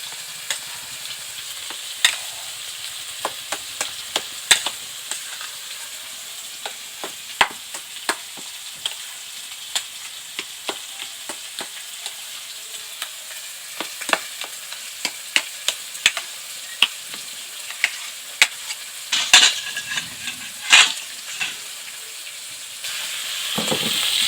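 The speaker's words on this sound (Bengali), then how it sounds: "খুন্তি দিয়েই করছি, গরম।" Hot yam and prawn dal stirred with a metal spatula in a pan, with repeated sharp scrapes and clinks over a continuous soft sizzle, close and steady throughout.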